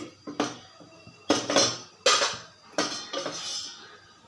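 Several sharp metallic clanks of a pot being set down and shifted on a stovetop while heating for rasam, spaced irregularly with brief ringing after each knock.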